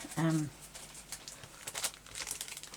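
A plastic bag is being handled, giving a loud crinkle at first followed by softer scattered rustles and crackles.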